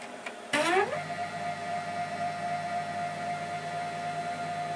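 An Emco F1 CNC mill cutting a wheel hub dry with a carbide 3-flute cutter: a sharp onset followed by a steady, high tonal whine and hum of the spindle and cut, continuous and fairly close.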